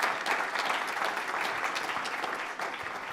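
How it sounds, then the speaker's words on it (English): Audience at a small-business pitch event applauding a presenter, a sustained wash of clapping that stays even and fairly distant throughout. "round of applause for Corbin"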